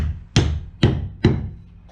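Three sharp hammer blows drive a wooden plug into a hole in a boat hull at an even pace, each a solid close knock with a short ring-out.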